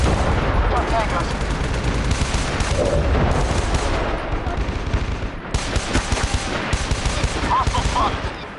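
Dense gunfire in the PS3 shooter Socom Special Forces: sustained automatic bursts and rapid shots rattle loudly for the whole stretch, with faint radio chatter mixed in.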